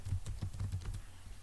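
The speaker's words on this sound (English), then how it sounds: "Let us see if it's working. Okay, let us type." Quick, close bursts of typing on a computer keyboard, about a dozen key taps in an uneven rhythm, alone in a quiet room.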